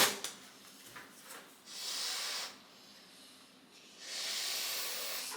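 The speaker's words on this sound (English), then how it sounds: "I'm inflating two balloons at the same time" Air hisses in two long bursts while two clear Belbal 14-inch balloons are inflated at once, each steady rush close and moderately loud, separated by a quieter stretch with small clicks at the start.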